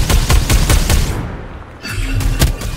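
Rapid automatic gunfire from a Farlight 84 game match, loud and close, with dense repeated bursts, a short lull in the middle, then more shots resuming.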